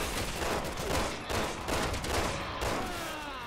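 Rapid gunshots in Resident Evil 6 crack out in a dense, steady burst, loud and close, overlapping into a near-continuous barrage with no talking.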